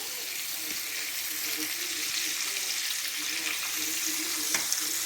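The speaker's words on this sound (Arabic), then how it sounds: "شرائح الدجاج طيبتهم شويه الزيت وجوج معالق ديال الزبده" Chicken slices sizzle steadily in hot oil and butter, a continuous crackling hiss with occasional small pops throughout.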